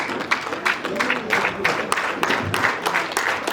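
Families at a Rwandan wedding and dowry ceremony clap in uneven bursts of applause. Voices of the crowd mix in beneath the clapping.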